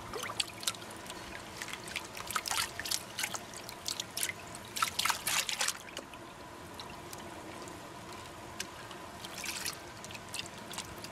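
Water sloshes and trickles in a gold pan as black sand is worked, with quick splashing bursts early on settling into softer dribbling, close and fairly quiet.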